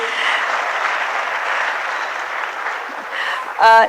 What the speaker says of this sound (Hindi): मुझे लगता है पहले तो जोरदार तालियां हो इनके लिए